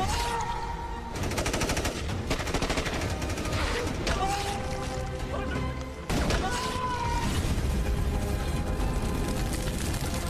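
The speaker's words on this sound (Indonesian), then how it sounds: "ternyata serangan brutal itu berasal dari sniper Iran yang paling ditakuti yang bernama Muhammad Abdul Zarin" Gunfire in an Iranian sniper film, rapid rattling bursts of shots with short pauses, heard close and loud over a narrating voice and other film sounds.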